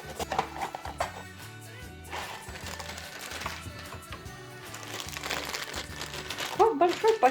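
Plastic packaging crinkles and rustles close by, with music playing throughout and a voice talking over it.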